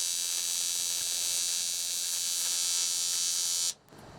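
Tack welding on cargo bike frame tubes gives a steady, close electrical buzz with faint crackle that holds for nearly four seconds before cutting off abruptly into quiet.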